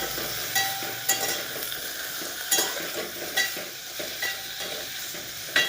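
Bitter gourd sautés in hot oil in a pan with a constant close sizzle, and a utensil scrapes and clicks against the metal now and then as the pieces are turned.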